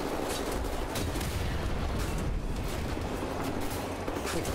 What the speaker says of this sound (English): I have a chain gun and these guys just take all the bullets